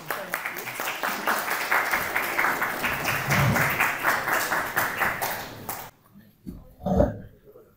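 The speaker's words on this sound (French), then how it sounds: "On peut les applaudir parce que..." An audience in a university lecture on linked lists applauds, a sustained round of clapping that stops abruptly, followed by brief quiet and a few voices.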